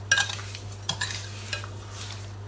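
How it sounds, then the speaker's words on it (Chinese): A spoon stirs Victorian plums with sugar in a bowl for homemade jam, giving a few close, wet scraping swishes and soft clinks over a steady low hum, with no talking. "搅拌均匀"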